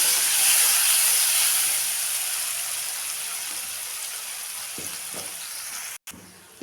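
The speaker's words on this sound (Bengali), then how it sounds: "দিয়ে পেঁয়াজটাকে দিয়ে আমি একটু ভেজে নেব।" Thinly sliced onion frying in hot oil, a steady close sizzle and hiss throughout, with a few soft stirring knocks near the end before a brief cutoff.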